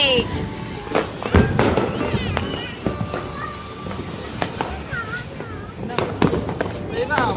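Deepavali firecrackers burst outdoors in scattered sharp pops and crackles, some close and some farther off, while people talk and move around nearby.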